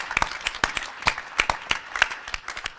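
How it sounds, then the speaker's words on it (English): Sparse, irregular hand claps at a National Governors Association winter meeting closing session, a small scattering of people clapping for the CEO, moderately quiet, with no voices over them. "If we give him a great round of applause"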